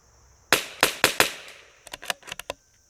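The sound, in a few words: rifle shot from a Whidden Gunworks CZ 457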